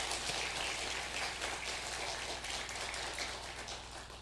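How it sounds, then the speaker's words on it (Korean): Congregation applause at a Sunday church service, a dense, steady wash of many hands clapping together that holds at an even level for several seconds, with no speech over it. "오늘 감사의 마음을 담아서 저희 박수 드립니다"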